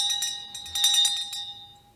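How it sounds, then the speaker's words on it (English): A pull bell at the front door of an old hall rings in a bright, metallic jangle of several quick strikes that ring on and fade out, with no voices over it. "If you be good enough to pull the bell, Dr. Watson."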